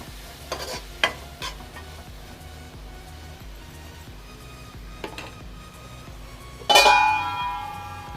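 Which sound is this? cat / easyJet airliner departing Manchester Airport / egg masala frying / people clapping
egg masala frying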